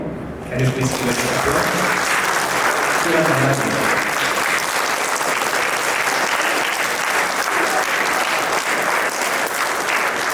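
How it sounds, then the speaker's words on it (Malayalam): An audience at a St. Dionysius prayer group claps together in loud, sustained applause that fills the room for several seconds, while a speaker's voice carries briefly at the start. "എല്ലാവരും ഒന്നിച്ചൊന്ന് കൈയടിക്കാമോ?"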